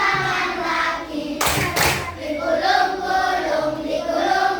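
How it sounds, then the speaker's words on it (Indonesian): Children clap their hands together during a class song in a fourth-grade classroom, a short burst of clapping standing out over a steady hum of room sound and singing voices. "Tepuk tangan lagi."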